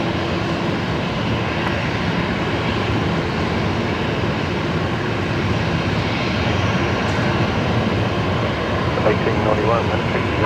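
Broadband aircraft engine roar rises steadily across a Brisbane Airport runway as a plane departs, a continuous loud rumble with radio chatter and voices talking over it.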